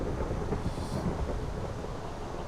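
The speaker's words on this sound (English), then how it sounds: "a nice storm out there." Thunderstorm in the Minecraft game world, a steady broadband rumble of rain and thunder that holds at an even, moderate level throughout with no voices.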